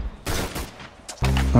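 Gunfire in the Roblox shooter game Arsenal: a burst of rapid shots early on, a brief lull with scattered sounds, then a loud, dense volley of automatic fire to the end, close and with no talking.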